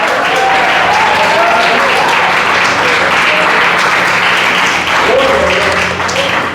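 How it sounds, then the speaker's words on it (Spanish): Church congregation applauding loudly and steadily for several seconds, a dense wash of clapping with brief vocal cries rising over it. "Dale un fuerte aplauso al Señor."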